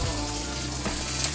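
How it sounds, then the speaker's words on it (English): Shiitake mushrooms and garlic dry sautéing in a pan make a dense, steady sizzle and crackle that holds at an even, close level throughout, with no talking. "Dry sauteing. Shiitake. Garlic."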